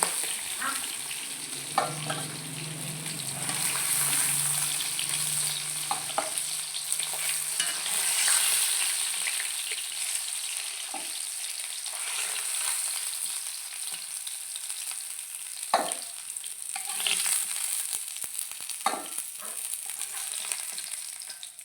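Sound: pangas fish frying in oil

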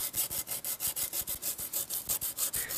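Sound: sanding rust off a car body

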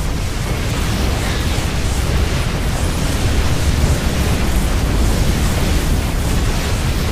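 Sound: explosion as a cannon is destroyed in a StarCraft-style video game

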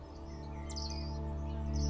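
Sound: pigeons cooing in Stray video game

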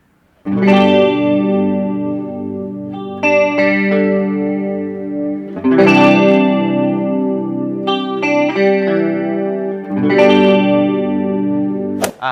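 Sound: wavering electric guitar effect

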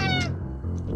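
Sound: cat meowing in Friday the 13th video game

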